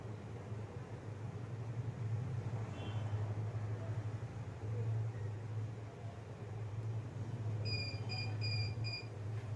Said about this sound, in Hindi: ये जो बीप की साउंड आ रही है ये मेरे DVR के सेटअप में से आ रही है